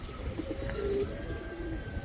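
A Hurricane-line pigeon at a pigeon market gives a quiet, close coo, a short run of soft low notes with no talk.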